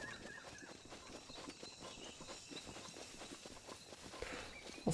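Steady clip-clop of horse hooves walking at an even pace, moderately close, with faint ambient background and no speech, in The Legend of Zelda: Breath of the Wild.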